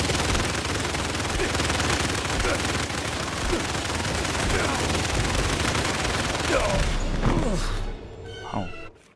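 Heavy automatic gunfire and explosions from the video game Indiana Jones and the Great Circle pound continuously for about eight seconds near a tank, then tail off into scattered impacts and quieter sounds.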